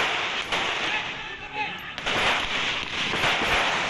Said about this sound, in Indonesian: Aksi baku tembak berlangsung sekitar 1 jam.